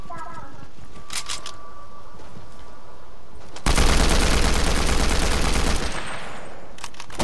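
Rapid gunfire from a small pistol in a video game, bursts of sharp shots with a loud sustained volley in the middle, heard alongside game sounds.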